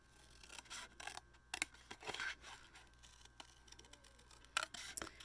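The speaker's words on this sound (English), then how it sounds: "we're going to cut out our cactus here" Scissors snip through paper, cutting out a small cactus shape for a handmade card. Crisp, close, irregular cuts and rustles come one after another, quiet and with no talk.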